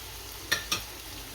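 A spoon scrapes twice through softened onions and tomatoes with turmeric, cumin, salt and chili in a sizzling pan, two quick close strokes over a low fry.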